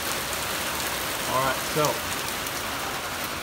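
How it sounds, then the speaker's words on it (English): Steady hiss of rain falling in Columbus, Ohio, a constant wash of noise throughout, with someone talking briefly over it. "And we have some rain in Columbus, Ohio."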